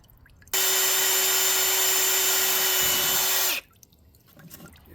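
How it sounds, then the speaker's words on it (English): A power drill bores into a plastic fuel tank on a Miller AEAD200LE welder generator, a loud steady high whine starting abruptly and running about three seconds before cutting off, with quiet surroundings on either side. "before you start drilling on it, but it's just plastic"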